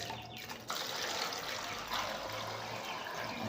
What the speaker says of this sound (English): So I'm about mixing the water.